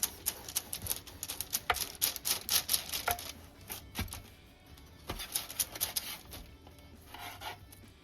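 A knife cuts through a moist coconut roll (salara) in a run of soft, close rasping strokes and taps that come in quick bursts, quieter in the middle stretch, with no one talking.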